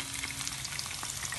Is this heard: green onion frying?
yes